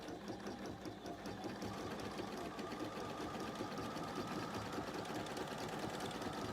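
A Bernina sewing machine stitches steadily along the edge of fabric, its fast, even mechanical whirr and needle patter running continuously at a quiet level.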